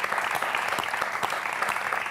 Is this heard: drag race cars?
no